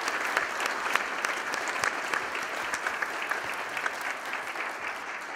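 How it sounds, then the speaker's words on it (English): Applause from a seated audience at the close of a technology industry outlook Q&A panel, a steady dense clatter of many hands clapping that holds at an even level throughout with no talk over it. "If you would join me in a round of applause for Patrick and Jeff"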